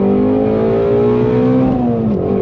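A 2020 Shelby GT350R Heritage Edition V8 held at full throttle, a loud, steady high-rpm engine howl that climbs and then drops off near the end, recorded close with no talking.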